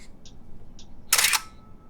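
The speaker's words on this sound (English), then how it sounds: "you can cheat and put the camera in the self-timer mode. This will override the shutter lock, and after 10 seconds, it will take the shot anyway." A Nikon F4 film camera on self-timer gives two short, faint electronic beeps, then the shutter fires with one sharp, loud mechanical clack that fades quickly in a quiet room.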